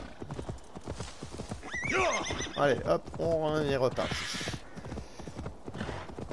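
Horse hooves walking in Assassin's Creed Valhalla on the Isle of Wight, a steady clip-clop with occasional whinnies, heard under continuous talk from a player.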